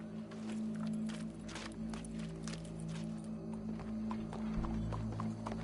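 Hooves clip-clop steadily over a constant synthetic hum, with a faint horse snort or whinny mixed into the busy game-like soundscape.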